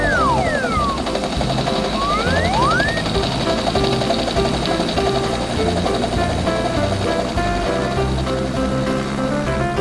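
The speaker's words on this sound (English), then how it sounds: "The helicopter can use its blades to fly in the air." Continuous loud whirring and chopping of an animated helicopter's blades, with a few sweeping whistle-like tones early on, steady throughout.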